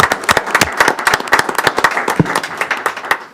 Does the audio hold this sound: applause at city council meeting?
yes